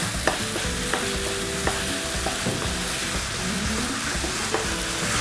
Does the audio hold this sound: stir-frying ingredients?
yes